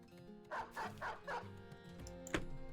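Dog barks in a video game with hunting and poachers on an expert unexplored map, a quick run of four loud, evenly spaced barks followed by a sharper yelp.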